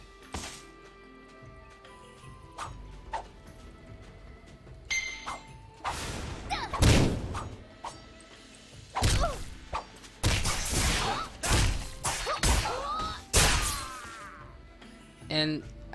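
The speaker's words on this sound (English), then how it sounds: "the combo attacks in here are so fluid" Melee combo attacks in an MMO game: a run of heavy thuds, whacks and swishing strikes in quick uneven bursts, loud and close, with some louder clusters toward the end and a voice talking at times.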